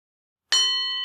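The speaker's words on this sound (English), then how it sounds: "And now on the sound of the bell," A single meditation bell struck once during a guided meditation session, a clear bright strike followed by a long sustained ringing tone that slowly decays in otherwise complete silence.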